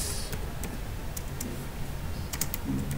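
Steady typing on a computer keyboard while entering ad text, with quick irregular key clicks close by over a constant background hiss.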